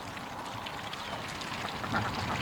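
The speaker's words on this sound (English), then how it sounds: "We got ducks behind us here." Ducks quack near the water in a busy outdoor spot, with scattered bursts of calls over steady background noise, moderately close and fairly faint.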